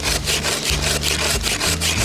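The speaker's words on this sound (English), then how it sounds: "These pruning saws are actually brilliant because they give a really clean cut." A pruning saw cuts through a shrub rose stem, with loud, close, rhythmic rasping strokes pushed back and forth at an even pace and no talking.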